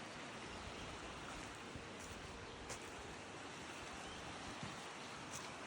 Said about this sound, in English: Waterfalls are pretty, even the tiny ones.